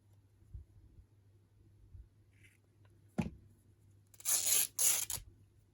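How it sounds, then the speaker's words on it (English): Glue-book paper is torn in half with two short, crisp ripping bursts close by, following a few soft handling taps in an otherwise quiet craft space. "I am going to tear this in half"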